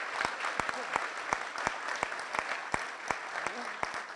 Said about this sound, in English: So I want to give a round of applause to Bill Hochul as well.